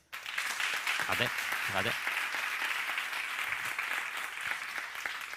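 An audience applauding as a rehearsal at an awards ceremony, a sustained dense wash of clapping from a crowd, steady from start to end, with a brief spoken word near the beginning.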